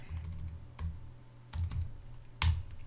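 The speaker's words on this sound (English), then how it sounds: "So if I go inside here and type, okay, make money online" A search query is typed on a computer keyboard, coming as scattered short bursts of key clicks with a louder final tap near the end, close and fairly quiet, with no talking.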